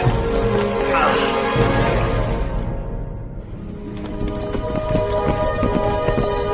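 Steady, dense rain pours down in a continuous hiss, with a low rumble and faint tonal hum underneath.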